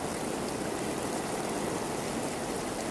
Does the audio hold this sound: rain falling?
yes